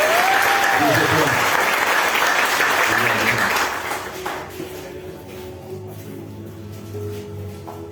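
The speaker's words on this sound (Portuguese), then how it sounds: "A salva de palmas," A church congregation at a praise and worship service breaks into loud applause that fades after a few seconds, leaving scattered claps and a low murmur of voices.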